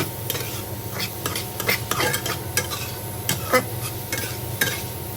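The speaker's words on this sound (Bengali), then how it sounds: "মাছটাকে পেঁয়াজের সাথে ভেজে নিচ্ছি" Shing fish frying with onion, salt and turmeric in a pan: brisk, repeated scraping strokes of stirring over a steady sizzle, close and fairly loud, with no talking.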